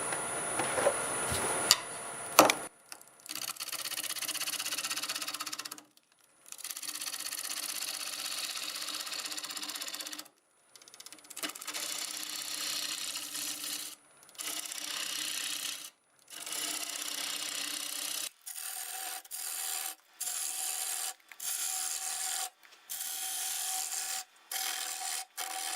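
A wood lathe turns redbud wood at about 900 RPM as a tool shapes it, giving a steady close scraping and rasping. Long stretches of cutting are broken by short pauses.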